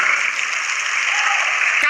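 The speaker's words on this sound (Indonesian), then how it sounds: "Tepuk tangan." Applause from an audience at an Islamic religious talk, a dense steady patter of clapping filling the whole stretch at moderate loudness, with no voices over it.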